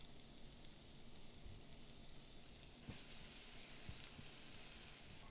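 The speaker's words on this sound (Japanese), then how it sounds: "ニンニクの香りが出て少し色づき始めたら、ここで玉ねぎ、そして人参も加えていきます。" Garlic, onion and carrot stir-frying in a pan give a steady, soft sizzle and hiss that swells slightly partway through, with occasional faint stirring clicks and no talking.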